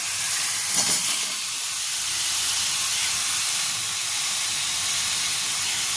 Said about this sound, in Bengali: এবার আমি এর মধ্যে ফুলকপি, আলু আর ডিম যে ভাজাটা আছে ওটা আমি দিয়ে দিচ্ছি।